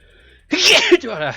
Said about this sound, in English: And my sneeze.